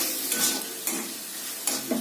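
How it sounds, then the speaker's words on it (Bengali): Vegetables for an egg and vegetable butter toast sizzling in a pan over a flame just turned up high, a steady close fry broken by a few quick stirring scrapes. "খানিকক্ষণ ভেজে নেওয়ার পরে আমরা লবণটা দেবো"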